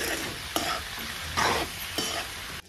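Pasta being stirred with pasta masala in a hot pan, a steady close sizzle with scraping strokes of the spoon recurring every second or so, no voices.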